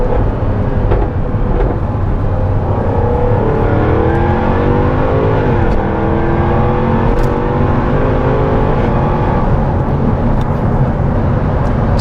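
A Jaguar F-Type R with a 5.0 V8 accelerates at full throttle, its loud, close engine note climbing through rising revs, dipping briefly at a gear change, then pulling hard again with a deep, steady roar.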